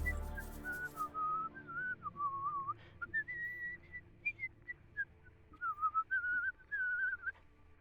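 A character in the video game Legend of Goopmen whistles a wandering melodic tune, clear and close. The pitch slides up and down over several short phrases with brief gaps, and no talk accompanies it.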